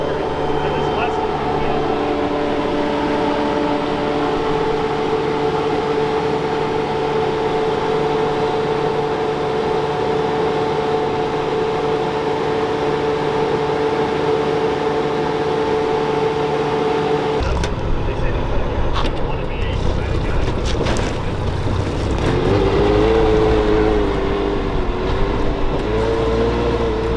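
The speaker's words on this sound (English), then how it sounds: "if I hit this button, I'm now redirecting the exhaust into my tires" Sherp amphibious ATV engine droning steadily, then shifting to a rougher, deeper roar with whining tones as exhaust is redirected into its tires. A voice speaks over the engine.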